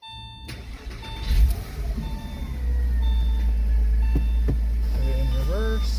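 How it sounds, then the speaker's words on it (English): A Porsche Boxster engine cranks and catches, then settles into a steady low idle, with electronic beeping tones sounding over the running engine near the end. "So we'll turn on the car."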